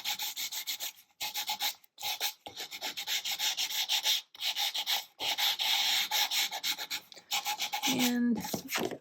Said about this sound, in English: I'm going to sand it just a little bit like I did the other one.